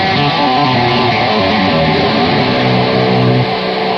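Electric guitar plays a lick at full speed: a dense, distorted run of fast notes that sounds steady and loud for about four seconds, with no talking.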